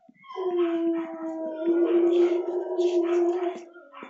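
A dog howls indoors in long, sustained, wavering tones lasting several seconds, loud and close, with faint whimpering inflections and no talk over it.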